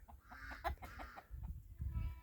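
Backyard chickens cluck in short, quick bursts close by, a busy run of calls with low scuffling underneath.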